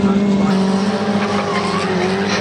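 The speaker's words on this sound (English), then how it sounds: "These Ginetta G40 challenge cars providing some of the best racing here this weekend." Ginetta G40 challenge race cars roar around Snetterton circuit, engines droning loudly with shifting pitch and some tire noise, continuous and close.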